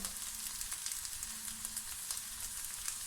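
Potatoes frying in hot oil at home, a steady crackling hiss with small pops throughout, fairly quiet and with no one talking.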